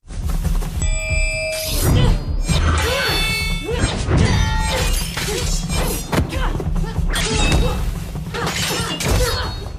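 Blows, thuds and crashing impacts from a fight scene in an Indonesian film, loud and dense, with shattering hits and a swelling musical score running throughout.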